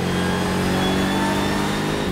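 A BMW M6 GT3 V8 race car pulls hard under acceleration, its engine note a loud, steady, dense roar heard close up from inside the cabin.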